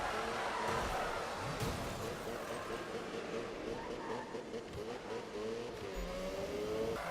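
A Mazda RX-7 races in Need for Speed 2015, with a continuous engine roar rising and falling through the gears alongside faint tire noise, and a voice talks over it throughout.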